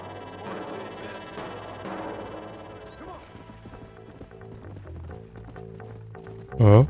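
A horse gallops up in the western video game Red Dead Redemption, its clip-clopping hooves thudding beneath game music and ambience, and a sharp loud hit lands at the very end.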